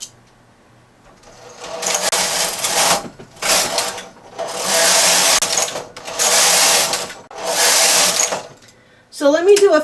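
A knitting machine carriage knitting a chain cable stitch makes five loud, close whooshing, rattling passes separated by short pauses, and a voice speaks briefly at the end.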